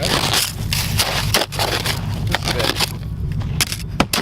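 Thick ice being scraped and crunched off a Mustang in winter, a steady close gritty crushing and scraping that runs on with brief pauses and no talk.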